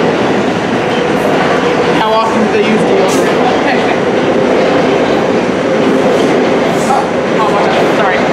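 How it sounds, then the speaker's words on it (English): A commuter train rolls through Crestwood station in Tuckahoe, New York, a steady loud rumble of wagons with faint wheel clatter and brief squeal, while a person talks over it. "And there's a train coming up."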